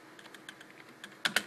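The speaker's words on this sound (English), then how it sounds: "what I do on the keyboard is I press spacebar" Soft keystrokes tap quietly on a computer keyboard while a hard-drive wiping tool runs, ending in two louder, sharper presses of the spacebar close by.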